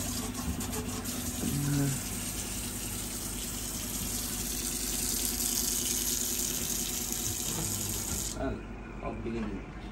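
Water runs from a tap in a steady, gushing stream for most of the time before stopping abruptly near the end, with household noises and a few brief tones underneath.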